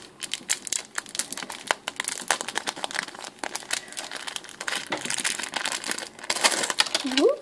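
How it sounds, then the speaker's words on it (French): Small plastic packets of jewelry charms are dropped and handled close up, giving dense crinkling and rustling with scattered light taps and clicks, and a brief vocal exclamation near the end. "Oups, voilà, je fais tout tomber."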